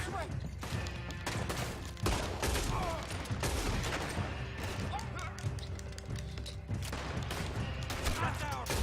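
Rapid bursts of gunfire from Hosea, a companion character in Red Dead Redemption 2, crackle loudly and continuously amid game noise, with a voice talking over the shots.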